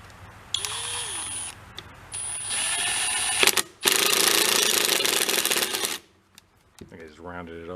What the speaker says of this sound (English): I'm gonna put that nut back on there and put it on a drill.